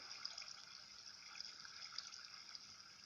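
Water flowing in the Minecraft video game, heard as a soft, steady trickling and bubbling, faint and continuous, with no speech over it.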